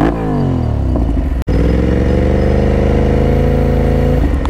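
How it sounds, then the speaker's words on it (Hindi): Aprilia RS457 motorcycle fitted with an Akrapovic exhaust, idling close by with a loud, steady burbling note, one brief blip cutting out near the start, engine still cold. "और एक बार एक ही एग्जॉस्ट नोट सुनाऊंगा"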